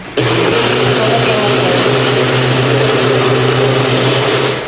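A blender motor spins at high RPM while mixing a shake, a steady loud whirring drone that starts abruptly and runs without pause, with strong low hum and broad high-pitched whine.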